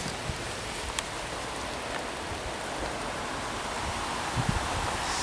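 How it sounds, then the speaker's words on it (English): Steady, dense downpour of heavy rain hissing across everything, with occasional louder drops and patters, continuous throughout. "it's absolutely bloody pouring down with rain"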